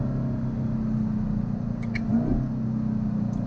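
A Chevrolet Camaro ZL1 engine rumbles steadily at close range, with a brief rise in pitch partway through as it downshifts and revs back up; people are not heard talking.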